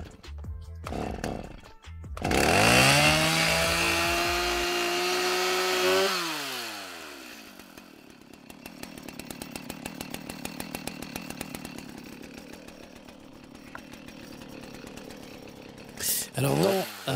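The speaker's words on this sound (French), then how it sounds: "le bruit de cette tronçonneuse, ce n'est pas celle d'un élagueur en train de couper les arbres" A chainsaw in a town square in Montauban roars loudly at high revs for several seconds, then drops to a steady, pulsing idle before a brief rev at the end.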